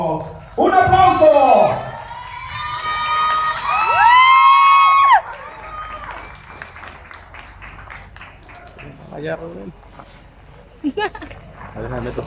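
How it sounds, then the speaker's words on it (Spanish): A crowd at a live performance by a romantic band from El Salto, Jalisco, bursts into loud cheers, shouts and whoops, with clapping under the voices, then quiets to scattered calls and a few claps. "¡Un aplauso!"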